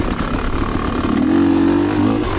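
A motorcycle with an aftermarket pipe revs on a wooded trail, a loud, close engine note climbing in pitch midway before settling back, with no talk over it.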